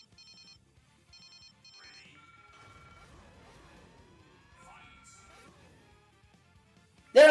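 A telephone rings in a Kamen Rider W episode, a thin electronic tone repeating in short bursts, fairly faint over a quiet background, with a sudden loud noise at the very end.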